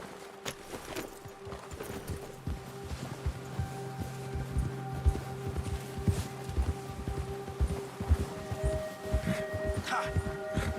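Horse hooves clip-clop at a steady walking pace in Red Dead Redemption 2, moderately close, under sustained game music with occasional speech.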